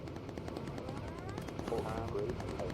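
Machine-gun fire from bomber turrets in the Bomber Crew game, rattling steadily at moderate level under an engine drone, with a voice talking over it.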